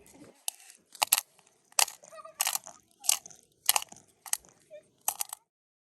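A pepper grinder is twisted in a run of about nine short, crisp crunching bursts at a steady rhythm, close and clear against a quiet kitchen background.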